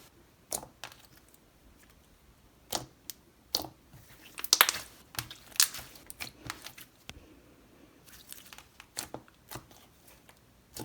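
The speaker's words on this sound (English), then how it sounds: "So this is a very clicky slime" Clicky slime is squished and poked by hand, giving soft wet crackles and clicking pops in irregular bursts, close and fairly quiet, with brief gaps of near silence between handlings.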